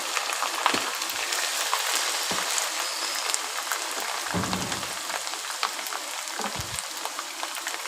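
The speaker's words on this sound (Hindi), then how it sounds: "अब इस मौके पे अदरक लहसुन का पेस्ट है मेरे पास, ये शामिल कर लेंगे। थोड़ा सा इसे भी भून लेंगे।" Ginger garlic paste frying with browned onions in a pan for desi chicken shorba, a steady soft sizzle and crackle with occasional louder pops, close and continuous with no talk.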